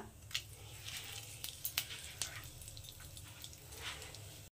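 Dry red chillies, cumin seeds, a bay leaf and chopped garlic frying in hot oil in a pan, giving a soft, faint sizzle with scattered small pops and crackles.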